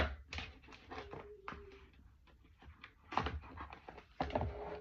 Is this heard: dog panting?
yes